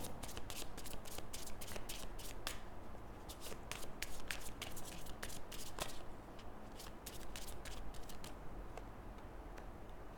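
A deck of tarot cards is shuffled up close, making quick, dense bursts of riffling clicks and flutters that repeat in rapid succession at a fairly low level, with no talking.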